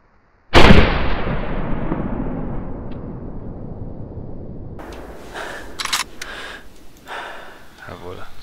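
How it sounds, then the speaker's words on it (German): A single loud, sharp rifle shot in the hunting video game The Hunter 2013, fired at a red fox, cracks out and rings away in a long decaying echo, followed by quieter rustling and a voice. "Jawohl. Sauberer Schuss."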